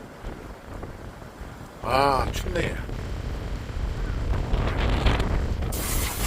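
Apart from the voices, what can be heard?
strong wind at the seaside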